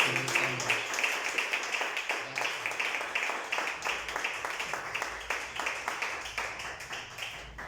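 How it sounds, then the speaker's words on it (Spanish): A church congregation claps in praise to God, a rhythmic run of fairly close, moderately loud claps, with voices faintly talking beneath. "Den un fuerte aplauso a nuestro Dios"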